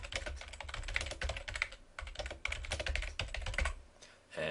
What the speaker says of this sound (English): type in the traditional greeting